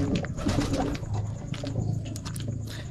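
Pigeons in a breeding loft cooing steadily over about three seconds, with low murmuring coos layered under soft rustling and chirpy bird sounds, close and continuous.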